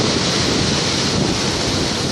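Waves breaking on the Black Sea shore at the Khosta resort in Sochi in July: a loud, continuous roar of surf with wind buffeting the microphone and no voices.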